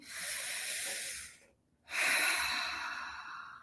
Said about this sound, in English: Let's all take a deep breath in as a part of our conscious discipline.